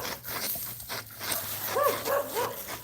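A dog gives a few short whimpers and soft yelps in a backyard garden, high thin cries bunched near the end over low background noise.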